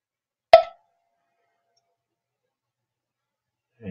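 A single sharp computer mouse click while working in Inventor CAD software on an assembly, alone in near silence, followed at the end by the faint start of a voice.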